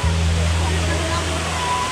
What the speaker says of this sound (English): super waterfall fountain pool.